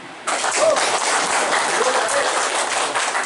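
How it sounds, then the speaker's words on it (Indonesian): Applause from an audience at a local event breaks out suddenly and continues as a steady, dense wash of clapping, with a few faint voices mixed in. "Boleh tepuk tangan"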